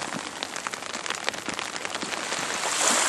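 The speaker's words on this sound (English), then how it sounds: "the rain continues to fall down on us lightly." Light rain falls steadily in the woods along the Casque-Isles Trail, a dense, continuous patter of drops on leaves and surfaces, close and even, swelling slightly toward the end with no voices.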